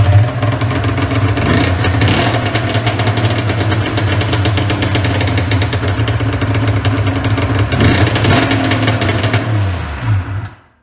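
A snowmobile engine revs hard under throttle, a loud, steady droning roar that holds for about ten seconds with slight pitch shifts before cutting off abruptly at the end.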